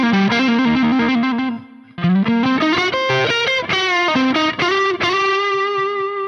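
An electric guitar with distortion and chorus effects plays a soulful minor pentatonic scale in a blues-pop style, with clear sustained notes stepping up and down, loud and close, with one brief pause and no talk.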